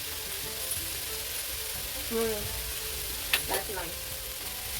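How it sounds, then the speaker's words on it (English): Chopped onions and carrot sauté in a pan with a soft, steady sizzle, a few brief scrapes of stirring, and a short spoken remark. "we're just gonna let the onions and carrot saute down"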